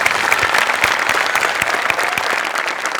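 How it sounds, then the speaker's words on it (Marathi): Steady, dense audience applause at a live comedy stage show, loud and continuous throughout with no pauses. "तुझ्यासाठी जोरदार टाळ्या"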